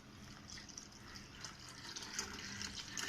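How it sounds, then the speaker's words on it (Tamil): Water poured from a vessel into a pot of spinach and lentil dal kulambu, a steady splashing, gushing stream at close range with no talk. "இப்போ கொஞ்சம் தண்ணி சேர்க்க போகிறேன் ஆக்சுவலாக."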